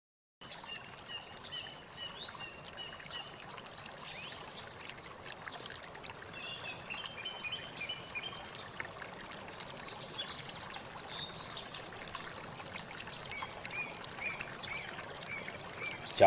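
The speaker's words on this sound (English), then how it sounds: "He looked up and saw the waters of a vast river." A vast river flows with a steady, broad rushing and trickling of water, continuous and moderately loud throughout, with faint bird-like calls scattered in the background.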